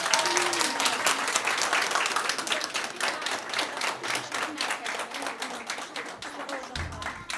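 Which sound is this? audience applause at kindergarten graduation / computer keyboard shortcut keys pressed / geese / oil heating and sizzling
audience applause at kindergarten graduation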